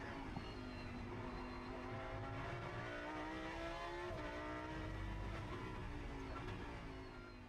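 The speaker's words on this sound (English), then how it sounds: "we ride on board with our next contender. That's Juntai Shiro in the 99 car for Promotion Racing" A Lamborghini Super Trofeo race car engine at Fuji is heard onboard, revving hard through the gears with rising and falling pitch as it shifts, loud and continuous throughout.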